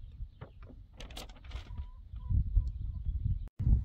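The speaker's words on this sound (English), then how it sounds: "All the chickens got out, except for the young ones." Backyard chickens cluck and squawk close by in a short, uneven flurry of calls, with rustling and thumps of movement after the birds got loose from their enclosure.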